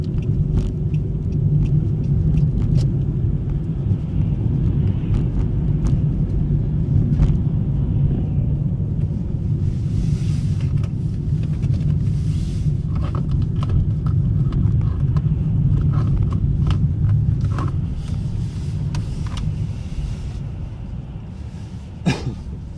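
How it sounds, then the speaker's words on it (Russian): A car speeds up on a city road during a driving lesson, its engine a steady low rumble that holds throughout and eases near the end, with faint interior clicks and rustles. "Разгоняй автомобиль."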